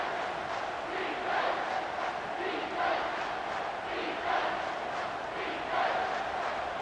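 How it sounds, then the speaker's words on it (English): Stadium crowd noise from College Football 25 during an Ole Miss vs LSU game, a steady roar with swelling cheers rising every second or so, no talk over it. "This crowd knows when to bring it."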